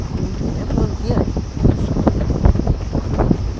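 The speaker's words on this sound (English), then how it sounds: "Nice breeze out on the Ford." Breeze blowing outdoors in an open setting, gusting wind buffeting the microphone in uneven, rumbling bursts, loud and close.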